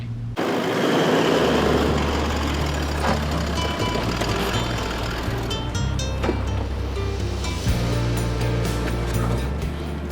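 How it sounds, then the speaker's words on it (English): Ocean waves slosh and crash against the sides of a car and van towing a hybrid caravan along a Fraser Island beach, a loud continuous wash of water over a steady engine drone. "we had waves hitting the side of the car and van"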